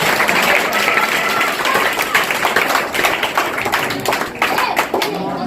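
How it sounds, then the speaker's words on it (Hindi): Applause from a crowd of children and adults at a school general knowledge competition prize ceremony, a dense, steady patter of clapping sustained loudly throughout with slight swells and taps. "जोरदार तालियां के लिए"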